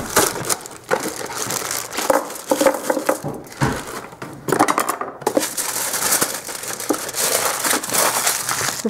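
A plastic bag of pizza rolls is crinkled and crushed in loud, irregular bursts of rustling that run almost continuously, with short pauses.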